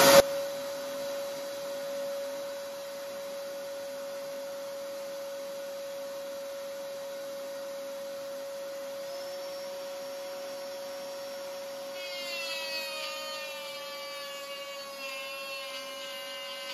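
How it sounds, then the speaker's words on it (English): A vacuum whines steadily alongside a router's constant high tone while cutting dovetails with a Peachtree dovetail jig, with a rising, wavering mechanical pitch toward the end. "Now I gotta turn on the vacuum."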